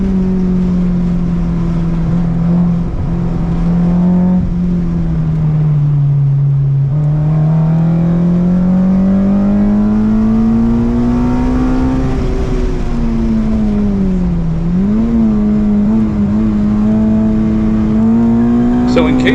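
A Honda-engined Volkswagen GTI race car drones loudly and steadily, its engine note sagging, climbing and dipping through gear changes and throttle shifts, with a person talking over it.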